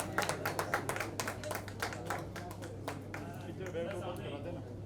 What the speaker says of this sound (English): Can you hear a huge round of applause, everyone,